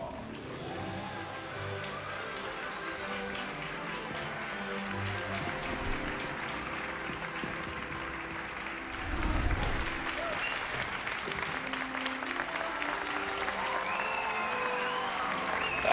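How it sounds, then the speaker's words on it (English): A crowd claps steadily for several seconds in Hogwarts Legacy, a dense sustained patter with faint murmuring underneath and a brief swell partway through. "Let's just calm down on our applause"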